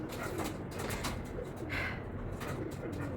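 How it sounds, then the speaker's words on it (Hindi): Pigeons coo softly in the background, low throaty calls rising and falling over a steady hum of ambient noise. "मुझे कबूतर डिस्टर्ब कर रहे हैं"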